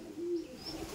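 A Madrasi pigeon gives a short, soft, close coo, one low throaty call followed by a faint trailing murmur, with no talking.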